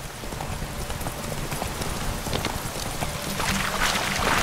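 A horse gallops in The Witcher 3, with rapid rhythmic hoofbeats pounding close and steady over a rushing background that swells louder toward the end.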